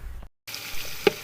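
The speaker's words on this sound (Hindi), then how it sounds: "अब हम इन सारी चीज़ों की अच्छी तरह से भुनाई कर लेंगे।" Slit green chillies and tamarind sautéing in a pan while biryani is being made: a soft, close sizzle broken by a brief silent gap, then steady frying with a small clatter, no talking.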